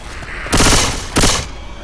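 Gunfire from the video game Left 4 Dead 2 comes as two short, loud bursts of rapid automatic shots with a brief pause between them, over quiet game background.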